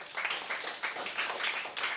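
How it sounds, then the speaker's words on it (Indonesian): A congregation applauds at a Sunday church service, a steady patter of many hands clapping together, faint and somewhat distant, with no voices over it. "Berikan tepuk tangan yang meriah buat Yesus"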